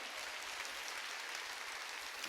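Church congregation clapping during a Sunday worship service, a faint, distant, continuous patter of many hands.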